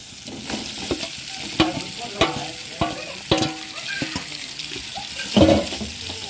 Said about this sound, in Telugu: మసాలా కూడా బాగా ఫ్రై అయిన తర్వాత ఇంకా బోన్స్ వేసుకున్నాం